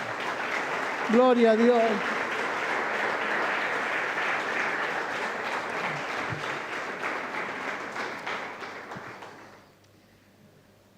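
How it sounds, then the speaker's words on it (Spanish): Church congregation claps for the Lord in sustained, dense applause, a voice calling out briefly over it near the start, before the clapping fades away at the end. "Denle un aplauso al Señor."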